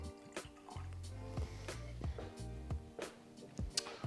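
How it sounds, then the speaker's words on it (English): Method & Madness Rye & Malt Irish whiskey pours into a glass as a faint, close trickle with small glugs and drips in a quiet room. "And we pour."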